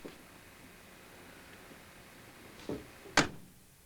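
The door of a 1967 Chevrolet Camaro SS 396 shuts with a solid thunk near the end, after a fainter earlier knock, against quiet background hiss.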